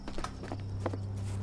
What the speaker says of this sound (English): All right, horsey, have a good one